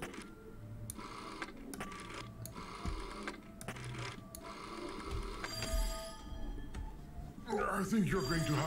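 A telephone rings inside the video game There Is No Game, repeated bursts of bright ringing spaced across the stretch, fairly faint, with a voice speaking briefly toward the end.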